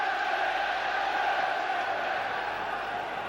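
Football stadium crowd during a 1996 Champions League match between Manchester United and Fenerbahce, a dense continuous roar of thousands of voices at a steady level.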